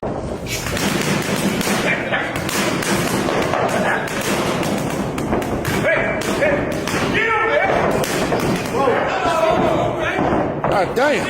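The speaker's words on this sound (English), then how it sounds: "he hones blistering fast punch combinations with his padman" A boxer throws fast punch combinations into a trainer's pads, a near rapid run of sharp thuds and slaps mixed with loud background music or crowd noise.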